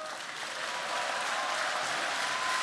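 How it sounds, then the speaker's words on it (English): An arena audience at the Cybathlon 2024 competition applauds steadily, a dense continuous wash of clapping that holds at an even, fairly distant level throughout. "Round of applause, please, everyone here in the arena"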